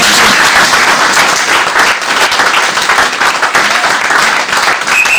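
A church congregation applauds loudly and continuously, a dense wash of many hands clapping close by, with faint voices mixed in.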